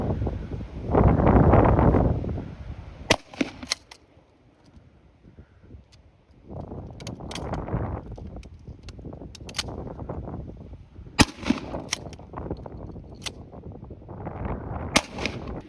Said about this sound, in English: we're just going to blast some water bottles and different types of cans